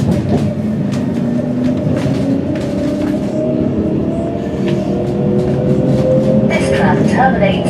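A tram in Birmingham pulls away from a stop, its motor and wheels rumbling with a steady drone and rising hum while a recorded announcement speaks over it.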